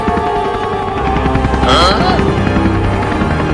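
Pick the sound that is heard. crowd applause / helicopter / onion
helicopter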